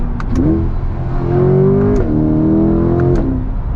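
A loud, close Chevrolet C8 Corvette Convertible engine revving up through the gears toward redline, pitch climbing and dropping with each shift, steady and unbroken.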